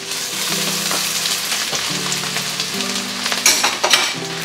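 Minced onions hit a pan of golden-browned garlic for milkfish sisig, a loud steady sizzle and crackle close up with stirring scrapes, rising in bursts near the end, no voices.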